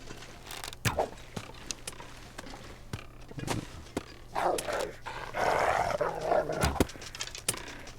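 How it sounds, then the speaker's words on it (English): A wolf eats in a video game, with low growls, snarls and sharp chewing snaps close by, irregular bursts over faint background ambience. "There's that wolf that's eating."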